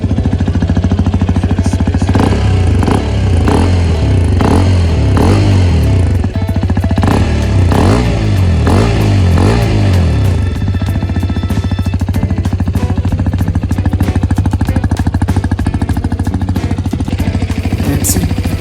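Hero Xpulse 210 motorcycle exhaust, close and loud: a thumping idle broken by a series of sharp throttle blips and revs in the first half, then settling back to a steady burbling idle.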